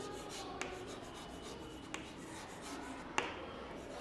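Chalk or a marker scratches and taps across a board during a school English lesson, a soft continuous writing texture with a few sharper clicks, close and fairly quiet.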